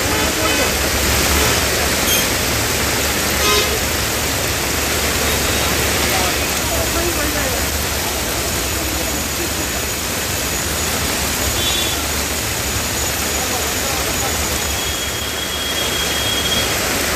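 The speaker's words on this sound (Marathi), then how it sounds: "घाटामध्ये धबधबे किती मोठ्या प्रमाणात प्रवाहित झाल्याचं आपण पाहतोय" Monsoon waterfalls pour down in Amboli Ghat during heavy rain, making a loud, dense, unbroken roar of rushing water that fills the whole stretch.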